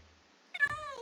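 A Minecraft cat gives a single clear, close meow of about half a second after a near-silent start, heard alone with no talk.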